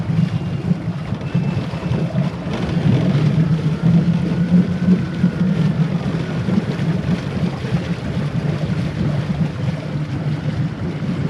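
A newly swapped engine in a 1999 Formula 280 Sun Sport boat rumbles at a low, steady idle, with wind and water noise around it.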